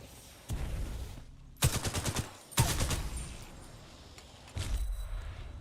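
Pistol fire in Titanfall 2, a couple of rapid bursts of sharp shots with a separate single blast after, loud and close with short pauses between.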